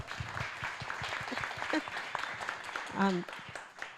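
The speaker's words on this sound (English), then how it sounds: "Can we give them a round of applause?" Applause from a crowd at a public event on protecting democracy, scattered clapping with a short voice and cheer rising over it near the end.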